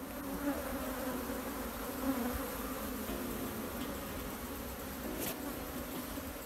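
A dense, continuous drone of Africanized bees swarms around their nest, steady and close, with individual bees whizzing past the microphone and no talk.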